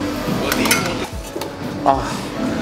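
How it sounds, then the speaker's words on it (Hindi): A metal tiffin food container is opened, with lids scraping and clinking against steel pots, close-up amid faint background noise. "और ये दूसरा टिफिन खोलते हैं।"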